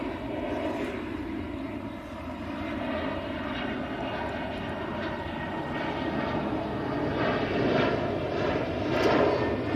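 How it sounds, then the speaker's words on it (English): A jet airliner at Manchester Airport roars steadily, a broad sustained engine rumble that builds slightly toward the end, heard from a distance with no clear talking. "There's a Finnair about to land as well. It's an Embraer."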